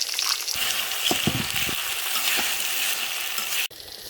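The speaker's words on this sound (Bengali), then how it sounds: "রসুন ভাজা হয়েছে" Steady sizzling of garlic frying with onions in a hot pan, with a few soft stirring scrapes, close and continuous.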